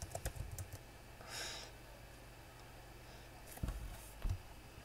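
Typing on a computer keyboard, faint and close: short clusters of light key clicks at the start and near the end, with a quiet gap between.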